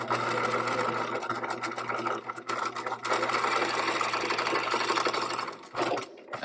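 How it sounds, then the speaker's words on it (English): A sewing machine runs steadily, stitching the waistband seam of a pair of shorts, with a continuous close motor whir and needle rattle that stops briefly near the end. "head over to your sewing machine and stitch this seam."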